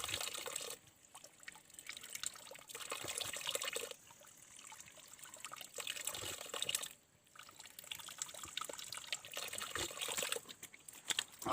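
Mountain water trickles and splashes faintly outdoors, used for drinking with the help of a leaf in Arunachal Pradesh, a soft continuous babble with slight surges.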